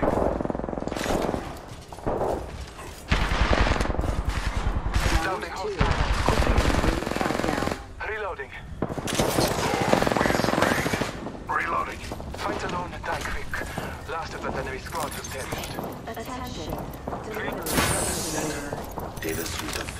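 Bursts of automatic gunfire in the Apex Legends battle royale, loud and close, rattling through most of the stretch with short pauses, while voice lines play over the shooting.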